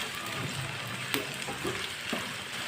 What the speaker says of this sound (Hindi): कटी हुई भिंडी डालेंगे, अच्छी तरह मिक्स कर लेंगे।